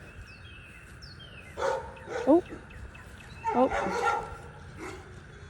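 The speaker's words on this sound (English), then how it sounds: "Neighbors have dogs. I don't know if you can hear them barking." A few distant dog barks in two brief clusters over steady outdoor background noise, with a short spoken exclamation nearby.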